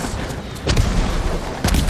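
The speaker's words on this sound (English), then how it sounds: "Who's shooting off fireworks?" Firework-like explosions in the Ghost of Tsushima video game go off as two heavy, booming bursts, the second after a short gap, over a rumbling battle background.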